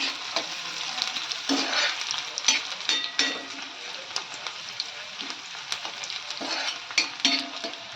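Onion frying until browned in a pan for a drumstick pod vegetable curry, a steady close sizzle with frequent scraping stirs and light clinks throughout, no talking.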